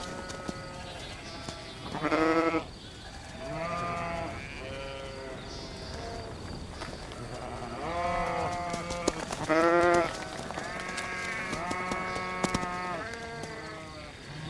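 Several sheep bleat in turns, loud and close, their wavering cries repeating over a soft outdoor background.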